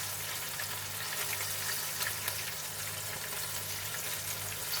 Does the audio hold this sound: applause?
no